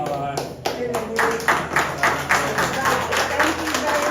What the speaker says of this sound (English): let us applaud them